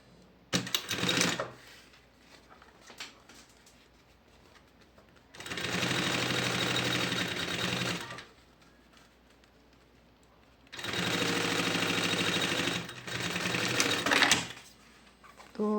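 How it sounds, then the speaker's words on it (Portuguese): A sewing machine topstitches a seam on a fabric lunch bag: a short run near the start, then two long, steady bursts of rapid close stitching separated by quiet pauses. "E rebater uma costura aqui."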